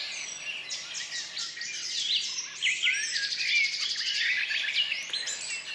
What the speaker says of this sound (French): Le chant des oiseaux. Écoutez, quelle symphonie!